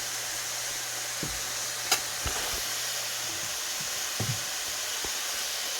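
Pumpkin pieces tossed into a pot of saltfish for Jamaican seasoned rice, under a constant soft sizzle with a few scattered clicks and knocks of a spoon against the pot.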